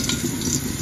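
Bay leaf and curry powder sizzle in hot coconut oil in a pan, a steady close crackling hiss with light stirring.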